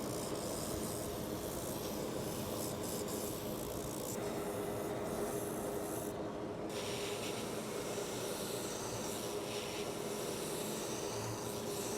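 A continuous abrasive grinding rasp from a belt sander works against a boot heel, steady and close, with slight shifts in pressure.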